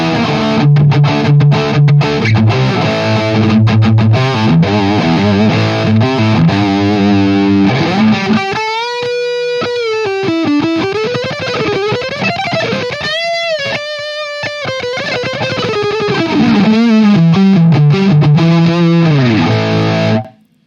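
A Schecter Banshee electric guitar plays heavily distorted riffs and sustained lead lines through a Marshall DSL 100 amp, loud and continuous, ending abruptly.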